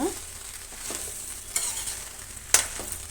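Crushed garlic being stirred into okra gojju in a pan, with soft scraping strokes over a faint sizzle and a couple of sharper spoon clinks; no talking.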